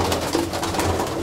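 Fancy pigeons at a bird-selling spot coo in low, steady throaty calls, close and continuous with a hum of surroundings behind them.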